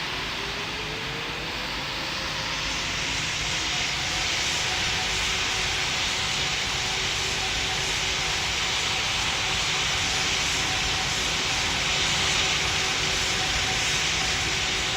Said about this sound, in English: Speedbird 2381 Heavy, you're clear for takeoff on 25 left.